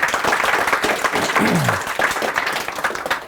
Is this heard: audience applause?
yes